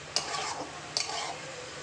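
Meat being stirred and fried in ghee in a pot for biryani: two sharp spoon knocks against the pan, each followed by a short scraping stir over a soft, steady sizzle.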